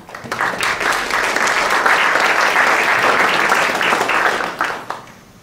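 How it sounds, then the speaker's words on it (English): An audience at a San Mateo County Board of Education community event bursts into steady applause, rising quickly, holding dense and loud for several seconds, then tapering off at the end. "And let's give a round of applause for our"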